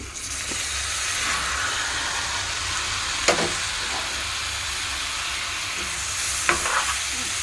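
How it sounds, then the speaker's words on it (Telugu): Chicken tossed into browning onions in a hot pan, giving a loud, steady frying sizzle with a couple of sharp stirring clinks and scrapes. "ఇప్పుడు ఇందులోకే ముందుగా రెడీ చేసి పెట్టుకున్న చికెన్ కూడా వేస్తున్నాను"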